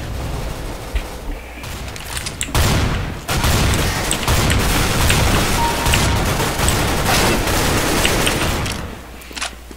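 AK rifle fire in Counter-Strike: Global Offensive, dense sustained bursts of gunshots filling most of the stretch, loud and close, with brief quieter gaps near the start and end.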